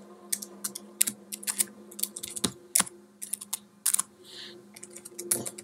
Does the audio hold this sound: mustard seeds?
no